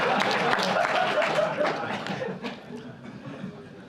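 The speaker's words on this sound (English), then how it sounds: "a round of applause for Ziggy and for Alex for helping out with the music" Audience applause with scattered laughter at a demoscene gathering, a dense clatter of clapping that fades over a few seconds.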